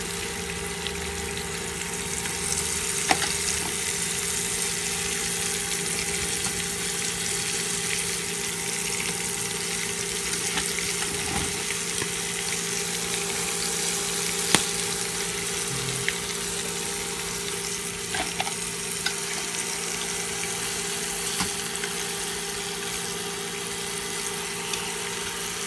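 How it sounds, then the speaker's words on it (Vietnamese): Crab pan-fried in hot oil for a Vietnamese tamarind crab dish, giving a steady, loud, unbroken sizzle and crackle that runs throughout with occasional sharper pops and no talking. "mình chiên sơ cua lên cho mình khử cái mùi tanh của cua ấy"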